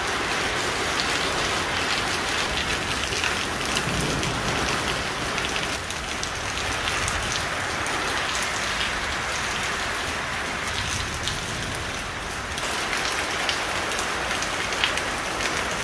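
Steady rain pours down outside a home during an evening downpour, a dense, even patter of drops on surfaces that holds at a constant level for the whole stretch, with no voices.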